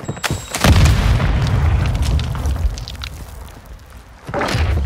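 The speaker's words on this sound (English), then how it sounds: "Throwing grenade!" A grenade blast in Call of Duty: Modern Warfare II: a deep, loud boom opens and rolls into a long low rumble, with another heavy thump rising near the end.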